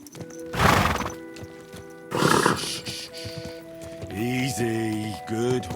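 Horse in the video game Kingdom Come Deliverance 2 whinnies loudly twice, with snorts and clip-clopping hooves between, then a voice speaks over a final neigh.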